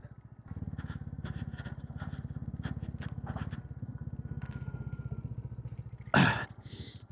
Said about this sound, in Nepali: साइलेन्सर लुज भएछ